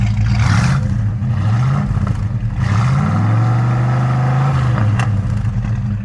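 Exhaust note of a 1964 Ford Falcon Futura convertible resto-mod, idling with a low steady rumble and rising into a couple of smooth revs that swell and settle, loud and close with no talking.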